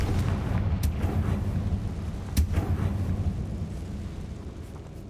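Fiery spell blasts from the Hogwarts Legacy game, a dense rumbling roar of magic combat with a couple of sharp cracking bursts, steady and loud throughout with no talking.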